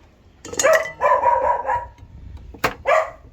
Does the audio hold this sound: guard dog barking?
yes